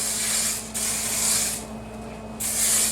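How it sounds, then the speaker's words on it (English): Hairspray hisses in three close, steady bursts over short hair, with a brief pause between each spray and a faint background hum. "I'm gonna go ahead and spray a little bit more in the front."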